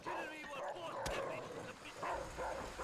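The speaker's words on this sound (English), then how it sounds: "Stupid dogs, go away." Dogs bark and yip in Call of Duty: World at War gameplay, a few sharp calls and whimpers close by, mixed in with a player talking.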